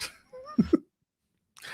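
A person sneezes once, short and close, in a quiet room, with brief talk before and after it.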